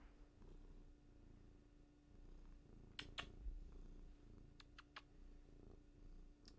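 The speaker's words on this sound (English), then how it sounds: "We are purring like crazy." A cat purrs steadily and softly throughout, a low continuous rumble close by, with a few brief sharp clicks and scratches partway through and no talking.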